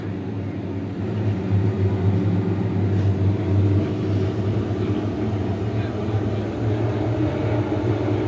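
IMCA stock cars racing on the Southwest Speedway track produce a continuous low engine roar that swells and holds, heard under a commentator's voice.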